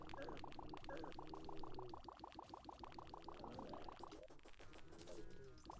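Bubble gun firing a quick stream of bubbles in the video game Terraria, a quiet run of rapid, evenly spaced bubbly pops that briefly thins out, then resumes.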